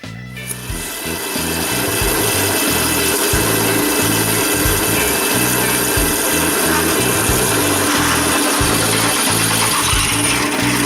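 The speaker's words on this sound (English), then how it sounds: "It's a lot of holes to drill." Loud power drill grinding steadily through square iron, drilling half-inch holes close up, with the motor's pitch pulsing rhythmically as pressure is applied and eased.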